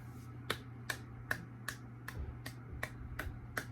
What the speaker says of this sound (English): That's a slow clap.